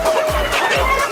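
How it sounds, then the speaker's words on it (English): Mixed cocks and hens in a poultry breeder section cluck and call repeatedly, several close, loud bird calls following one another in an irregular rhythm. "You see they're mixed with cocks and hens."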